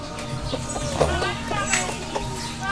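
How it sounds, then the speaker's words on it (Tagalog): Native chickens clucking in a rural yard, a few short clucks and calls heard amid someone talking and children's voices in the background. "ikay tigbantayan na itong Bisaya nga manok ha"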